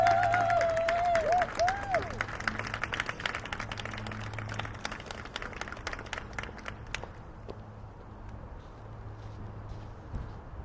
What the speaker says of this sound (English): Let's give a round of applause for Colonel Mary Westmoreland.